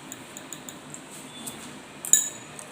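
A spoon clinks faintly against a bowl while sugar goes into raita, with small scattered taps and one brighter clink near the end, quiet and close.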